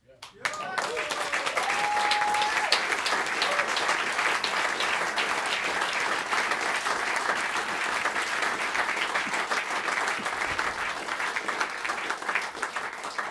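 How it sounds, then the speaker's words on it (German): Audience applause follows a live studio session, with dense, sustained clapping that swells quickly after a brief opening sound and holds steady for over ten seconds, fairly close and loud. "sie klatschen wie verrückt"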